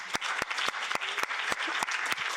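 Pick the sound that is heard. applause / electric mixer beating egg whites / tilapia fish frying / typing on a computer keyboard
applause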